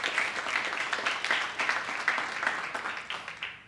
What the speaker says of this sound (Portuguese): Você pode aplaudir ao Senhor por essa noite especial que você está aqui nessa noite?